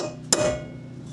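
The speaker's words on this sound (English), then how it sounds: "what I'm going to use is just a nail setter and a hammer" A hammer strikes a nail setter held against a differential seal. It gives a single sharp, close metallic tap with a brief ringing tail in a quiet workspace.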